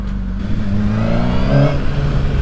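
A 2007 Honda CBR 600 RR sport motorcycle engine revs up and holds a strong, rising drone, loud and close, with the pitch climbing and then easing.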